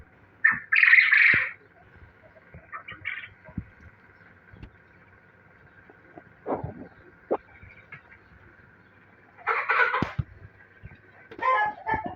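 Sussex chickens in their coop give several short squawks and clucks in scattered bursts, some close and loud, over a quiet background.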